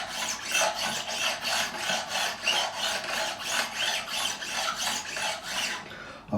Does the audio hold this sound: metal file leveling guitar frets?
yes